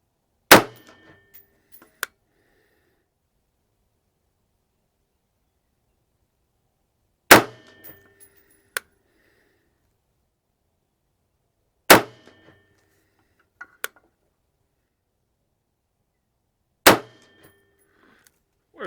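Four sharp, loud single shots of M193 ammunition from an IWI Tavor bullpup rifle with an 18-inch barrel, spaced several seconds apart, each a hard crack with a quick ringing tail and a faint later clink, no talking.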